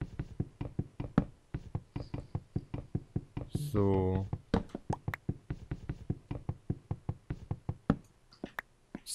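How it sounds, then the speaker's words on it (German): Blocks of a fence being broken in Minecraft, a steady run of short, sharp knocking taps repeating through the whole stretch, with someone speaking briefly over them. "Ich werde hier den Zaun mal abreißen."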